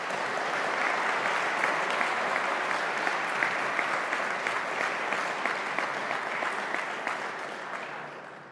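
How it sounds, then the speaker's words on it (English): An awards assembly audience applauds young women recipients in a long, steady burst of dense clapping that holds evenly, then fades slightly toward the end. "Let us give all of these young women a round of applause."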